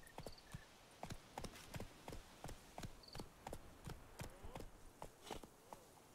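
Roach the horse gallops in The Witcher 3, hooves clip-clopping in a quick, steady rhythm at close range with a short whinny near the start.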